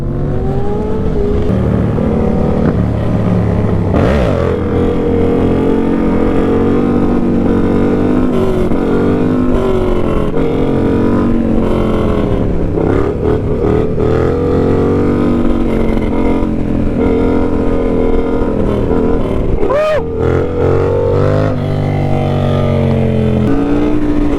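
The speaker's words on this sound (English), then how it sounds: "Oh, watch out, car! Car!" A loud car engine revs and roars continuously, rising and falling in pitch as it drives past at close range.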